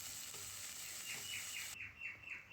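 Curry leaves sautéing in a pan for a South Indian curry leaf chutney, a steady soft sizzle with a few faint scraping strokes of a spoon, moderately quiet throughout.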